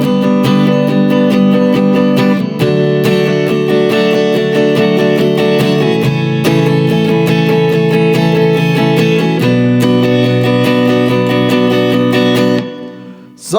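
Clean electric guitar strums a steady chord progression for a song's verse, loud and continuous with distinct rhythmic strokes and chord changes, no voices, ending with a brief fade.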